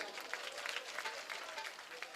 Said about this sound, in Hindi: तो 2 हाथ की ताली जरूर बजाएंगे।